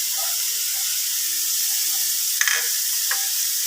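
Samosa filling sautés in a pan, giving a steady, close sizzle and hiss throughout, with a couple of brief stirring scrapes near the end.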